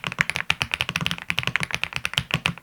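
Quick, even typing on a mechanical keyboard fitted with 45g gravelly-feel switches and pink jelly keycaps; crisp close clacks in a steady run, no talking.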